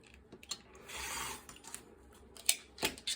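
Fabric scissors trimming the edge of a table runner, close and crisp: a long rasping cut followed by several short snips and slides, with small handling rustles in between.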